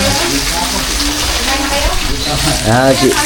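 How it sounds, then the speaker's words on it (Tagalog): Loud, crackling sizzle of tilapia frying in hot oil, continuous and close, with a brief voice-like sound near the end. "Nagpiprito si Tita Dada ng ano, mga ka-business, no? Mga ka-business ng tilapia"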